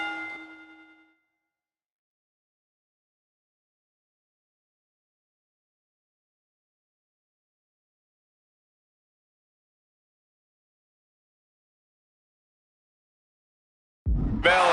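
A single ding of the ring bell that starts a championship match in the WWE 2K26 wrestling video game, sounding briefly and fading within a second, followed by long silence before a burst of other sound at the end.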